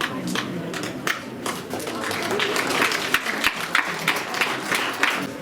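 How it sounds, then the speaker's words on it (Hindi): Applause from a school event crowd, uneven and rippling with some louder individual claps, with faint voices mixed in beneath the clapping. "जोरदार तालियां।"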